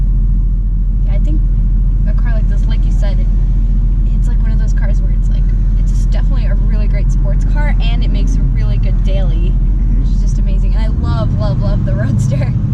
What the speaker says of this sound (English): I love the exhaust note too that you can hear in this one